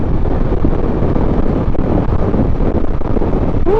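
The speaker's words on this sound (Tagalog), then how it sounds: "Grabe hangin." Strong, continuous wind buffeting roars across a Boya BY-M1 lavalier microphone outdoors, steady and loud throughout, with no one speaking.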